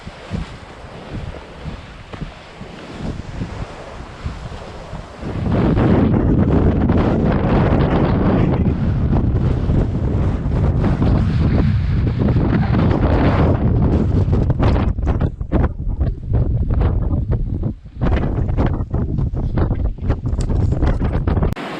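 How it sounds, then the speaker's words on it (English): Strong wind from a sea storm on a rugged coast near a lighthouse on Sakhalin, roaring steadily into the microphone with heavy buffeting and rumble, growing much louder after a few seconds and staying harsh and continuous. "But here is a natural sea storm."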